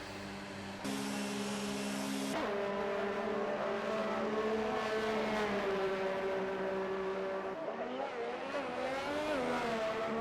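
A race car engine starts up and revs in the pit lane in F1 2019 at the Canadian Grand Prix, pitch climbing and shifting in steady sweeps, a continuous synthetic-sounding motor whine with no talking.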